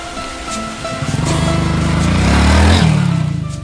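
A Win motorcycle pulls away, its engine rising from a low idle into a loud, steady revving drone that swells and then eases off slightly, close by, with no voices.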